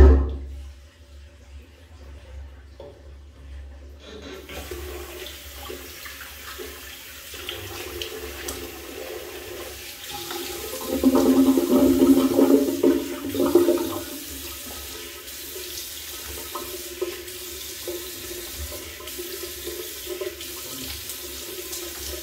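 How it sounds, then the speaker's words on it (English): Running cold tap water splashes into a sink after a safety-razor shave, steady at first then swelling louder for a few seconds before settling back to a continuous flow. "Let's go for a cold water rinse."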